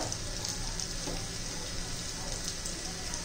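Curry leaves and a pinch of asafoetida sizzle in hot oil for dahi tadka, giving a steady, close, crackling hiss that holds without pause.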